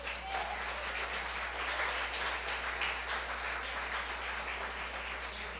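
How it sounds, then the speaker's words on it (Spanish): A church congregation applauds the Lord with a soft, even patter of many hands, distant and steady for several seconds over a low constant hum. "Voy a aplaudir al Señor por eso."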